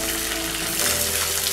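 Small onions and curry leaves fry in a hot pan, giving a steady, dense sizzle with soft bubbling crackle that holds evenly throughout, close and fairly loud, with no voices.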